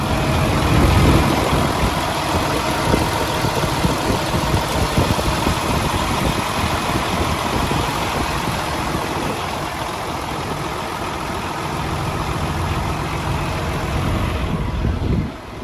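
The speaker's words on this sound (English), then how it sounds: "let you have a listen to this engine. Very quiet." A 2015 Peterbilt 579 semi truck's diesel engine idles steadily for a long stretch, a low, even rumble with a slight surge near the start.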